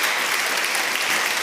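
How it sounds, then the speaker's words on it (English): A conference audience applauds after a talk, with dense, steady clapping filling the short stretch at an even loudness and no voices. "a big round of applause"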